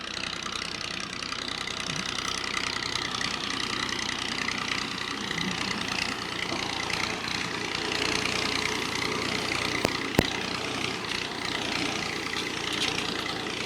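A tractor engine runs steadily on a village farm in Halabak, a constant loud mechanical drone with no breaks, heard up close with a couple of brief clicks.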